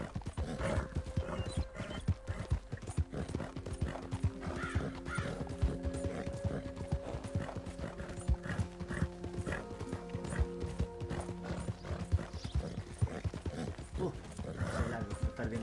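Horse hooves clip-clop in the video game Red Dead Redemption, a steady, close trotting rhythm that runs the whole time with no talk.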